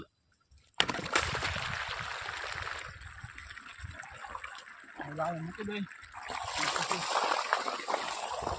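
Irrigation water rushes and splashes steadily across a wheat field, loud and close, while someone speaks briefly over it.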